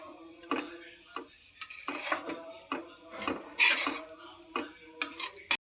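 Chapati pieces are tossed and stirred with spice masala in a pan, giving scattered soft scrapes and light clinks of a spoon against metal, quiet and close, with no talking.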